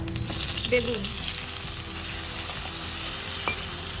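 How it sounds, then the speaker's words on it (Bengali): Small cut eggplant pieces, marinated with salt and turmeric, sizzle and crackle steadily in a little leftover oil in a pan, a continuous close frying hiss with occasional stirring scrapes. "এই বেগুনগুলো আমি ভেজে নেব।"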